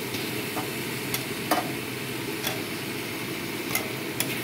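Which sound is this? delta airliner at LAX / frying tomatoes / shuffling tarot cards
frying tomatoes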